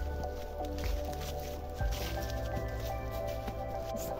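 Water trickles and splashes steadily out of a plastic pipe outdoors beside a cycle path, a close, continuous wet gurgle with occasional squishy drips over constant background hum.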